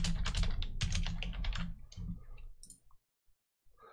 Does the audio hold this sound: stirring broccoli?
no